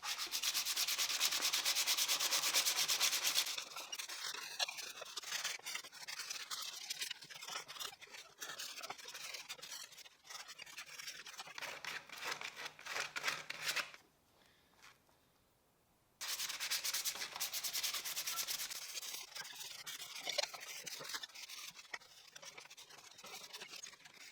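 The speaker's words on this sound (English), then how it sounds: "Once the bark is fully removed, I'll sand it with 80 grit paper and then with 120." Coarse 80 grit sandpaper rubs back and forth over a debarked tree branch, a close, raspy scratching that continues in uneven strokes, briefly pausing to near silence before resuming.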